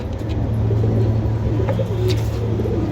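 Pigeons coo in a loft during breeding season, soft repeated throaty calls over a steady low hum with faint traffic in the background.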